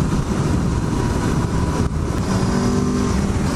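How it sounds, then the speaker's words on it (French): A 2022 Aprilia Tuono V4 Factory motorcycle with its stock exhaust and exhaust valve, its V4 engine roaring steadily and loud in a sustained, gravelly drone up close with no talk. "l'échappement d'origine fait un superbe son et la valve à l'échappement s'ouvre quand on passe les 6000 tours minute"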